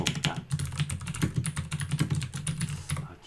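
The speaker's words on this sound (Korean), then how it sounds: "기계식 키보드가 조금 시끄럽네요." Rapid clacky keystrokes on a mechanical keyboard, close and continuous, with uneven bursts of typing and no talking.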